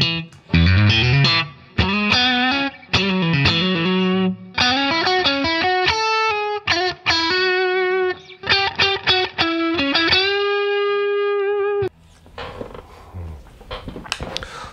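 An electric guitar played through a CULT OD-820 overdrive pedal with deep reverb: loud, distorted chords and single-note runs in bursts, sustained ringing notes, then a fading reverb tail.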